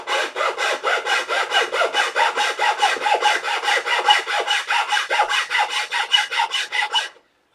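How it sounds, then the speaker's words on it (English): Rhythmic back-and-forth strokes of a file cutting a small section out of wood, hinge work on a sandpaper caddy, about twenty-five steady rasping strokes close up and alone, stopping cleanly at the end. "You can see just filing that little section out."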